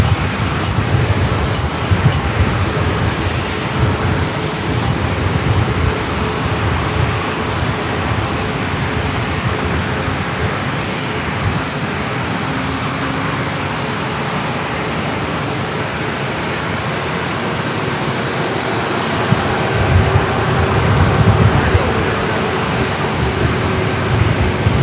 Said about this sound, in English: This flight heading to JFK on this 2-year-old A321neo